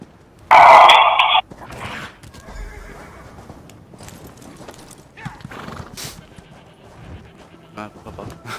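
A horse in a desert mission of a video game lets out one loud, close whinny, followed by soft hoof clip-clops and scattered game effects while someone talks over it.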